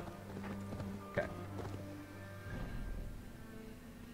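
Hooves clip-clop in quick rhythm as a horse is ridden in the video game Assassin's Creed Valhalla, faint and steady beneath game music and a brief voice.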